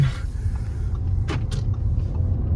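An Audi A4 B9 drives along with a low, steady engine and road rumble heard from inside the cabin, with a couple of short knocks partway through.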